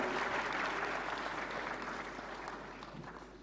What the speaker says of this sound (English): Let's begin with a huge round of applause, ladies and gentlemen.